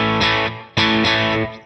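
Telecaster electric guitar with single-coil pickups played through a POD Go preset with a brightened EQ, giving two loud, distorted strummed chords that ring and sustain, with no talking.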